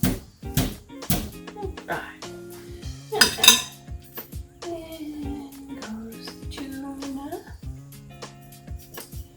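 A kitchen strainer full of prepped food is shaken to drain off liquid, giving bursts of sharp metallic clattering and clinking rattles, with a voice talking in between.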